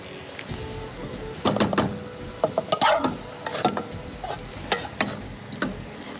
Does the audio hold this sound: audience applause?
no